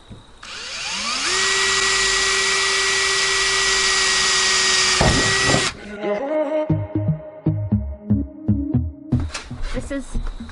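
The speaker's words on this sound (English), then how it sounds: "This is this cool little drill bit Darryl got called a step drill, step bit" A power drill with a step drill bit whines loudly and steadily, then breaks into a rhythmic, chattering grind as it cuts a window opening in a 2021 VW Crafter van body. Voices can be heard.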